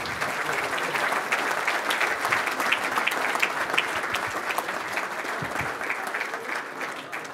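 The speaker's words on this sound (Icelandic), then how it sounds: "Ég legg til að við gefum þau gott klapp og þökkum þeim fyrir." An audience at a golf association meeting gives a warm, sustained round of applause, dense and even clapping heard at moderate distance with no speech over it.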